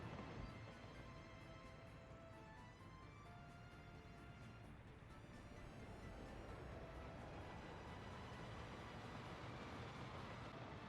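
A train rolls steadily along its line in the Soviet Republic-era city-builder Workers & Resources, a dense continuous rumble with faint tonal squeals, no voices.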